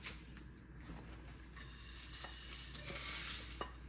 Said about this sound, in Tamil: சின்ன சீரகம் நாலு க காஞ்ச மிளகாய் மல்லி வெந்தயம் விளவையும் சேர்த்து வறுப்போம் இப்போ வறுக்க போகிறேன்